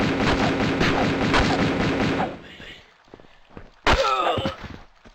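Gunfire in Tomb Raider II inside Barkhang Monastery, likely Uzi bursts: dense rapid shots for about two seconds, then quieter game sounds and a sharp burst near the end, with a voice talking over it.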